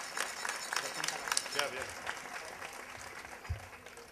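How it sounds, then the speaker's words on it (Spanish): Audience applause at a folk festival, a scattered wash of clapping running through the whole stretch while someone speaks briefly over it. "Un fuerte aplauso para él, por favor."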